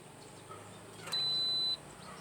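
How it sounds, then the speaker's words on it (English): A single steady electronic beep from an Instant Pot Duo 60 electric pressure cooker, lasting about half a second, clear over a quiet background hum. "It will beep, I think, once and tell you it's cooking."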